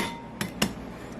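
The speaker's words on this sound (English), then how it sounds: "we're going to crack 2 eggs" Two eggs are cracked one after the other, two short, sharp knocks of shell against a hard edge, close and clear over a quiet kitchen background.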